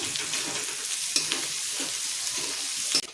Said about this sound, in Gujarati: હવે આપણે એમાં ડુંગળી નાખીશું। 2 થી 3 મિનિટ માટે આપણે બધું સાતડીશું।